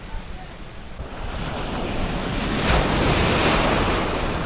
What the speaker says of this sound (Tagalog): Takot ang mga alon dito.